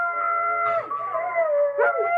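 People in a room imitating a dog's howl, with layered drawn-out voices rising and sliding in pitch, two swelling howls standing out over a quiet background.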